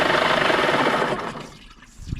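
An outboard boat engine is cut off with the kill cord button, its loud running rumble breaking up and dying away within about half a second into near quiet.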